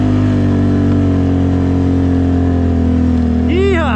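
A recently repaired motorbike engine drones loudly and steadily close to the mic, then revs up sharply at the very end.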